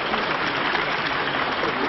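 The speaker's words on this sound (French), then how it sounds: "Dans la cour, le personnel applaudit celui que Valéry Giscard d'Estaing a appelé le Joffre de l'économie." Staff applaud in a building courtyard at a 1981 French government handover ceremony, a dense, steady wash of clapping sustained evenly throughout at moderate volume.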